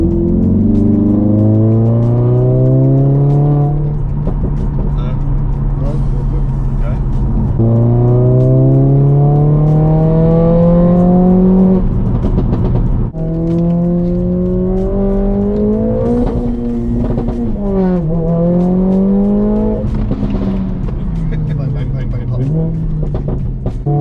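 A Mercedes-AMG A45 S with a stage 2 tune revs hard on a dyno indoors, its loud engine note climbing repeatedly through rising sweeps with brief drops between pulls, sustained throughout.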